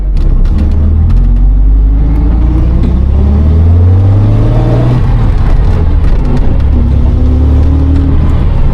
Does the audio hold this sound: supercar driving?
yes